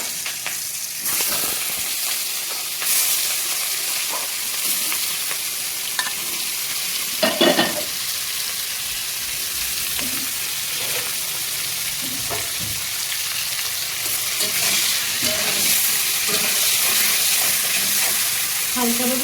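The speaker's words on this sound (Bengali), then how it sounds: "হালকাভাবে ভেজে নিচ্ছি মাছগুলিকে।" Prawns rubbed with salt and turmeric frying in hot oil in a wok, a steady close sizzle with occasional stirring clatters and brief spits throughout.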